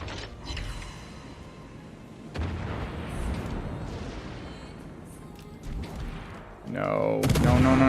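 Naval artillery fire in World of Warships Legends, with booming gun blasts, mechanical turret creaks and rumbling impacts over game ambience, plus a sharp burst near the end and a voice briefly heard.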